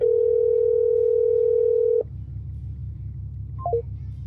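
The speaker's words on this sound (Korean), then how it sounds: "연결이 또 끊겼어요." A steady telephone dial tone drones for two seconds after a disconnected call and cuts off, leaving a low hum, then a brief quick sequence of beeping tones near the end.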